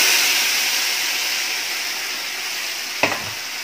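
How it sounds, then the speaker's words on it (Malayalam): Chicken sizzles and fries in hot ghee in a pot for Kerala-style biryani, a steady loud crackling hiss that fades slightly over a few seconds, with one sharp scrape of stirring near the end. "അതിൻ്റെ ശേഷം നമ്മൾ ചിക്കൻ ഇതിലേക്ക് ഇടണം."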